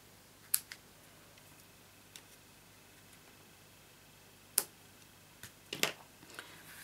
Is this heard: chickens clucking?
no